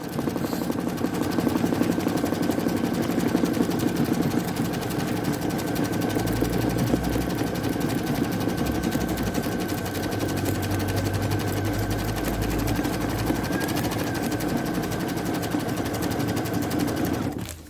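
An embroidery machine stitches along the sides of a fabric piece in a continuous, fast, even mechanical chatter with a steady hum underneath, running close and alone for about seventeen seconds before cutting off.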